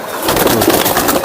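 Old pigeons coo close by in soft, repeated throaty pulses, several calls overlapping in a brief continuous burst.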